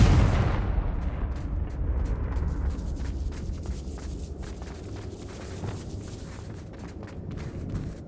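A Confringo fire spell explodes in the Hogwarts Legacy video game, a loud booming blast at the start followed by rumbling, crackling fire and scattered impacts that fade over several seconds.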